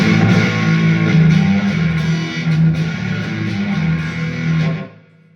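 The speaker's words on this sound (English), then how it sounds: "you put more distortion on it" Electric guitar played through a Brit-style rock amp setting with heavy distortion, sustained chords ringing loud and thick before cutting off near the end.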